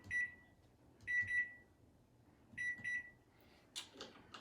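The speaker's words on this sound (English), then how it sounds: "set your timer for 90 minutes" Kitchen timer on a cooking counter beeping in short high-pitched bursts, single and double beeps spaced a second or so apart, fairly close in a quiet room, ending with a brief shuffle of handling.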